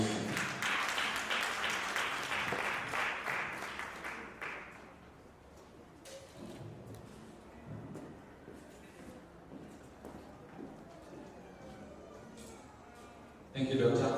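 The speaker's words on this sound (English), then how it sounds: "Another round of applause" A convention audience claps in a dense burst of applause for roughly four seconds, then it fades as someone talks over a quieter room, with a sharp closing noise at the end.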